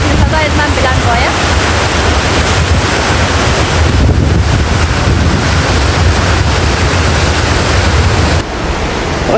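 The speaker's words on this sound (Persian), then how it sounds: "صدای دریا خیلی بلند است" Loud sea waves crashing and washing onto the shore, a steady roar heavy with wind buffeting the microphone, sustained throughout before easing slightly at the very end.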